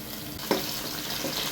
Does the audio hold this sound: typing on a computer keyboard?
no